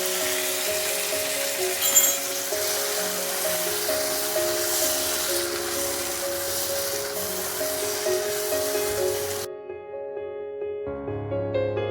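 Taro leaves dropped into a pan with lightly fried garlic, a steady broad sizzle and hiss with a few clinks, continuing for several seconds before cutting abruptly to background music.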